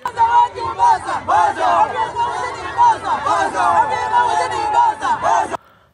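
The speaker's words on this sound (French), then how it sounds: "son cortège a été accueilli à Macha par une foule enthousiaste" A large enthusiastic crowd in Macha loudly cheers and shouts as a political motorcade arrives, with continuous excited voices and whoops that cut off abruptly near the end.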